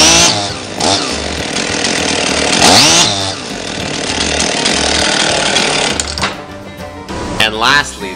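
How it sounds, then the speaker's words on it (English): A chainsaw is revved with its bar held close to a surface to check the bar oiler while being readied for firewood cutting. The engine howls loudly and steadily with rising and falling revs throughout. "leave it the bar a little bit close to it and rev it up and just see if it'll make a flail mark with the oil"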